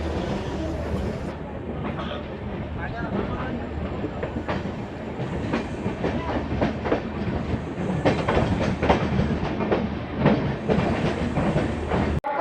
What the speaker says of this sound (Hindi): आउटर पे हैं और अपनी गाड़ी धीरे धीरे रेंग रही है